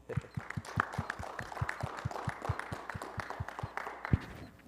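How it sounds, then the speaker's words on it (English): A small workshop audience applauds the presenter, a modest scattering of individual claps close by, rhythmic and uneven, with a few louder hand strikes standing out. "Let's give Justin a round of applause."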